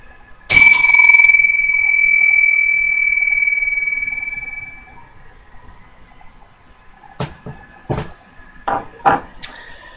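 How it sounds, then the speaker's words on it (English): A bell closing a guided meditation rings out once with a long, bright, slowly fading tone, followed by several softer, quick metallic taps. "I'll just ring the bells to bring everybody back."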